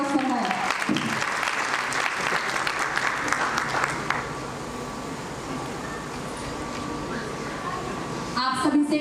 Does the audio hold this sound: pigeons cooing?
no